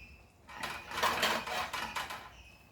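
A lid set down on a pot of Goan mackerel ambotik, a metal-on-metal clatter and rattle lasting a couple of seconds, fairly faint and close in a home kitchen.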